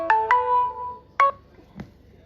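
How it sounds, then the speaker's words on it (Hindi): A phone ringtone goes off in the middle of a lecture: a few clear, bright electronic tones ring out in short bursts over the room's quiet hum, then fade. "बीच बीच में लोग फोन कर देते हैं।"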